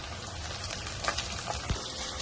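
Chopped tomato drops into onions frying in a pan, and a soft, bubbling sizzle runs throughout with a couple of brief louder taps.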